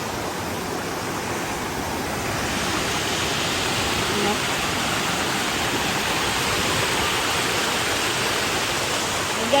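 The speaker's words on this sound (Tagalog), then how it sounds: "Yun yung waterfalls doon guys." A waterfall rushes nearby as a dense, continuous roar of falling water, loud and unbroken for nearly ten seconds.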